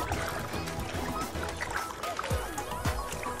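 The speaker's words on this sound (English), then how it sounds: "Splish, splash in the water." Water splashing at a beach, a few short sloshing splashes near the shore with children's voices and chatter running over the top.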